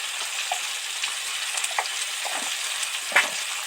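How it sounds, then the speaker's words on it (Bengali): Mixed vegetables, including beans and kohlrabi, fry in hot oil with a continuous close crackling sizzle and occasional soft stirring scrapes. "সবজিগুলো বেশ ভালো ভাজা হয়েছে"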